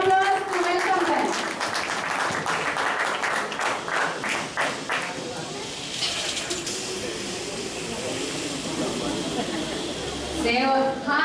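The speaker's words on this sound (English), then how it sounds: "Give them a huge round of applause to welcome them." Audience applause welcoming girls onto a stage at a children's rhyme recitation event, a dense, steady clatter of clapping that runs throughout at moderate volume, with a brief voice near the end.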